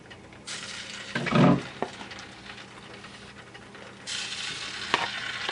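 Balls fry in very hot oil with a steady sizzle and bubbling, broken by louder bursts and occasional clatter of a utensil or pan, close and moderately loud with no talking.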